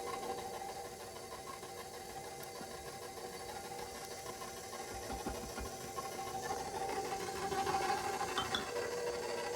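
A stand mixer beats cheesecake batter made with pureed iguana egg, giving a steady mechanical whir and hum that grows slightly louder near the end, heard alone with no talking.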